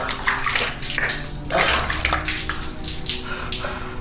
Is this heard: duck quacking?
no